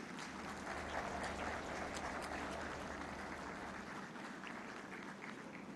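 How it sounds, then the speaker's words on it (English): A large audience at a formal ceremony in Pakistan applauds steadily to welcome Prime Minister Shahbaz Sharif to the stage, a dense, even wash of clapping that fades slightly near the end. "welcoming our chief guest, the Honorable Prime Minister of Pakistan, Mr. Mian Mohammad Shahbaz Sharif, to the stage to address this august gathering in your big round of applause"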